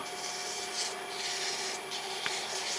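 Fine-grit sandpaper rubs against a piece of epoxy resin and wood spinning on a lathe at near 1,000 RPM, a steady close scratchy hiss with slight swells and no voices.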